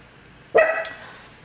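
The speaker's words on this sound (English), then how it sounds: "What are you barking at?" A single sharp dog bark rings out close and loud in an indoor home setting, followed by a brief fading tail and a softer second yip, with no talking.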